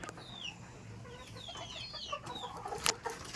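Hens on a poultry farm cluck in short, scattered bursts at moderate distance, with a few sharper calls near the end over a quiet farmyard background.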